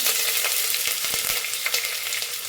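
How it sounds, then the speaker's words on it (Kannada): Chopped onion frying in hot oil over a tempering of spices and curry leaves, a dense continuous sizzle with brief stirring clicks near the start, close and loud, no voices. "ಈಗ ಚಿಕ್ಕದಾಗಿ ಇಟ್ಕೊಂಡಿರೋ ಈರುಳ್ಳಿ ಸೇರಿಸ್ಕೊಳ್ಳೋಣ"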